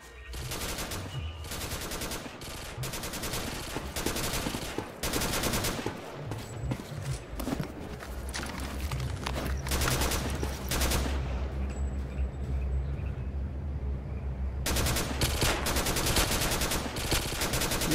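NPCs in S.T.A.L.K.E.R. Misery fire loud, sharp gunshots in rapid bursts and long volleys, close and dense at times, broken by short lulls and then a sustained stretch of fire.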